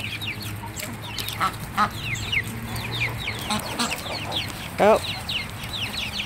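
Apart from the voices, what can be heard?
chickens clucking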